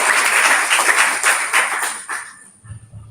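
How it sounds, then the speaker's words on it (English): A conference audience applauds for about two seconds, the clapping dense at first and then thinning out into a few scattered claps before the room falls quiet. "Can you give a round of applause,"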